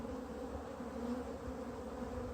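Honey bees hum steadily around an open hive frame holding honey, a dense, continuous buzz close by with no talking.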